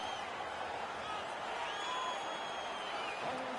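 Home crowd at an ice hockey game making a constant, fairly quiet wash of cheering and arena noise, with faint whistle-like tones drifting through it.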